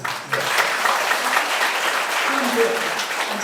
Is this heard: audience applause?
yes